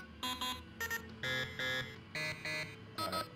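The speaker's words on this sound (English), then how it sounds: "Where's that buzzer? Because that is horrible." Harsh electronic buzzer alarm in the space-survival game Tin Can, sounding in repeated short pulsing bursts with brief gaps, loud and alone.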